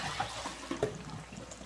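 Water drips and trickles as softened Thai rice noodles are lifted out of a pot, with a few light splashes and patters close by.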